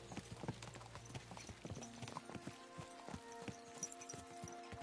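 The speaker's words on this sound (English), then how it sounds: "Let's really spur these horses on, eh?" Horses' hooves clip-clop at a steady riding pace in a video game, a rapid series of crisp hoof strikes with faint background game sounds.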